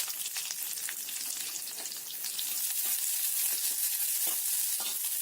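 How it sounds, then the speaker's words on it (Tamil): Shallots and curry leaves sautéing in hot oil in a clay pot, giving a steady close sizzle with faint crackles and occasional stirring. "இதை நல்லா வதக்கி வச்சுக்கோங்க"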